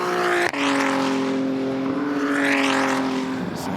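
A GT race car at the Bathurst 12 Hour endurance race screams past with a loud, high-revving engine, pitch rising and sweeping through gear changes, close and dominant with no talk over it.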